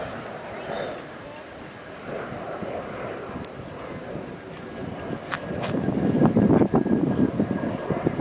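Wind gusts roar across the microphone beside a DIY wind turbine with a permanent magnet generator, a steady broad rush that builds louder toward the end, with a voice speaking briefly over it.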